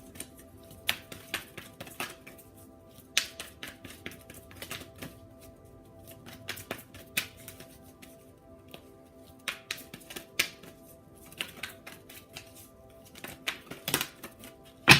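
Tarot cards handled and shuffled at close range, giving scattered soft snaps and papery riffles in irregular bursts over a faint steady background hum, with no talking.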